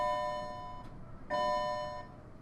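A doorbell rings indoors in two tonal chimes about a second apart, the second one louder and sustained, heard alone against a faint room hiss.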